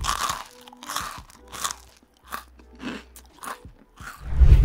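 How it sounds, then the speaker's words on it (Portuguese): Someone eating something crunchy: repeated crisp bites and chewing crunches, close and loud, arriving in uneven bursts with short quiet gaps between. "sons que são gatilhos para quem tem misofonia, como alguém comendo alguma coisa crocante"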